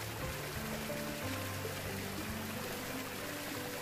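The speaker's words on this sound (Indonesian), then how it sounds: "Dengan gemericik air dari pancurannya menambah suasana menjadi meditasi abel." Water trickles from a fountain spout into a koi pond in front of a Marian grotto, a soft continuous splashing flow with a faint low steady hum beneath it and no speech.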